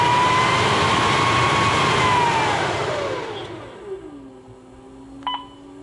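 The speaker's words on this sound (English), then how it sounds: "As you can hear, the cavity blower came on. You can speed that up, make sure it amps up and" A Turbo Chef oven's cavity blower whirs loudly and steadily, its pitch sliding as the speed changes, then settles into a lower hum with a brief beep near the end.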